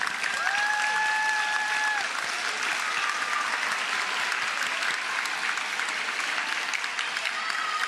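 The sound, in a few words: students applauding their families at promotion ceremony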